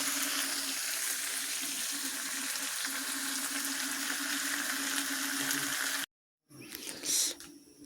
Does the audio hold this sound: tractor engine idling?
no